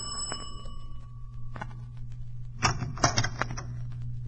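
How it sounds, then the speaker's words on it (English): In an old-time radio detective drama, a front doorbell rings once with a ringing tone that fades over a steady low hum, followed by a few sharp clicks and clacks. "I rang the bell and waited."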